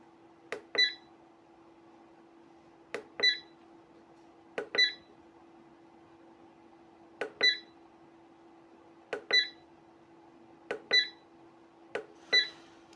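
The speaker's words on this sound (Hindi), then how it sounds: "ये होता है बीप ऑन के लिए।" Short electronic beeps from a SMUXI solar inverter as its beep setting is switched on, sounding in pairs of quick bleeps every couple of seconds over a steady low hum, close and clear with no talk.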